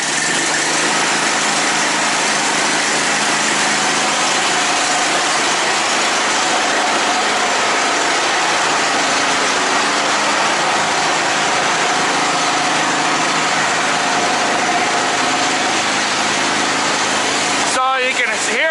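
A service truck's engine runs at a loud, steady idle after starting, a dense continuous rumble and whine filling the whole stretch with no pauses.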